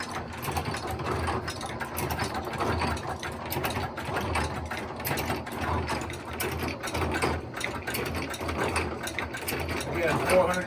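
A yarn-making machine at a small fiber mill runs with a steady mechanical chugging and ratcheting clatter, nearby and continuous throughout, with a voice talking over it.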